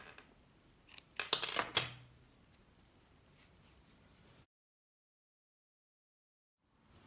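Scissors snipping off excess thread during needlework, a few quick close metallic snips clustered together, followed by quiet and then silence.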